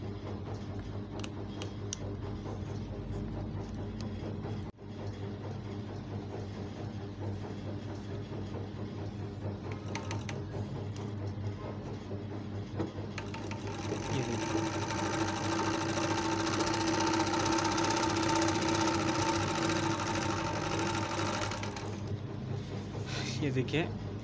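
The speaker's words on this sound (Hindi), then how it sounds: "अभी हम इसको बंद करके सिलाई मार के देखेंगे" An overlock sewing machine with newly changed feed teeth runs in a steady mechanical whir, its pitch and loudness rising as stitching starts about midway, with speech over it.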